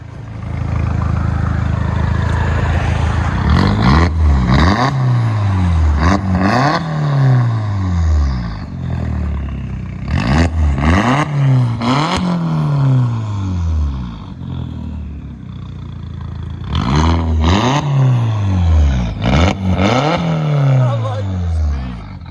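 A loud, raspy straight-piped VW Jetta 1.8L turbo engine revs hard in repeated bursts, each climbing then falling back with crackle, idling roughly between pulls.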